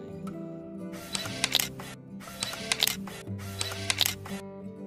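A Canon 1500D DSLR shutter fires in continuous mode during a photoshoot at a petrol pump. It makes three evenly spaced bursts of rapid crisp clicks, each about a second long, close and moderately loud over a low steady hum.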